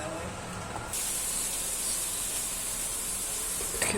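Orange sauce bubbling and sizzling in a pan on a home stove, a steady close hiss that swells suddenly about a second in and holds loud to the end.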